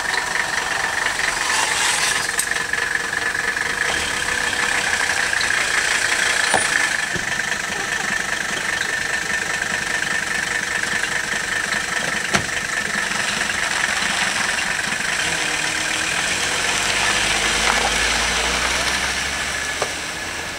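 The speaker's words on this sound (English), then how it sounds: "Mercedes running on vegetable oil, and it actually runs smoother than it did on diesel fuel." Mercedes diesel car engine converted to run on vegetable oil, heard as a steady, continuous running drone with a few brief clicks and rattles, fairly loud and without talk.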